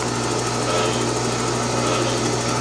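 Prazi SD300 lathe cutting metal under power feed gives a steady, continuous machine whine with a constant mechanical hum underneath, close and unbroken throughout.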